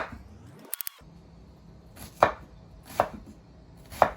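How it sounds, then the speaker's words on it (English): A knife chops an onion into small dice on a cutting board, with three sharp, spaced chops standing out clearly against a quiet kitchen background. "You want to dice your onion"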